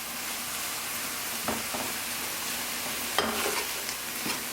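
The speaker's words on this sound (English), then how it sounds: "So this is going to saute for another 5 minutes or so." Oyster mushrooms sizzling in butter in a pan, a steady, even frying hiss with a few soft stirring scrapes, close and without talking.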